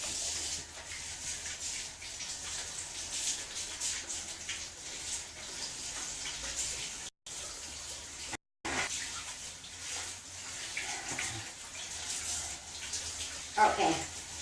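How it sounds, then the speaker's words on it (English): Hands being washed under a running kitchen tap, a steady close splashing stream that runs for several seconds with two brief cutouts and a faint voice at times. "I'm gonna wash my hands."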